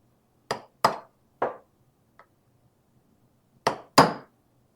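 Sharp metallic hammer strikes on a chisel in a small shop working a Mandalorian pauldron, two quick hits, a third, a pause, then two more, each ringing briefly in an otherwise quiet room.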